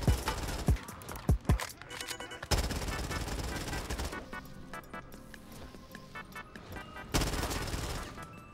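Gunfire from the Black Ops 3 zombies video game comes in a few sharp single shots, then a long sustained automatic burst and another volley at the end, loud and close with no talk.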